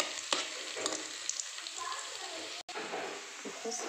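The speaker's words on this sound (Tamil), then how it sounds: "கொஞ்ச நேரம் நல்லா பொரியட்டும்." Cashews and raisins fry in ghee in a pan for sweet pongal, giving a steady close hiss and crackle with a few light stirring scrapes; there is no talking.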